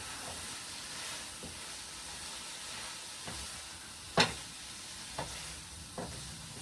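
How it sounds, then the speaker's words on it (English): Pasta being tossed in a hot pan with kale, mushrooms and sausage gives a steady low sizzle, broken by a few short clinks and scrapes, one of them louder than the rest. "Throw that pasta in, toss it around."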